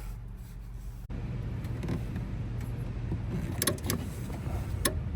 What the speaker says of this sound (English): I hear some clicking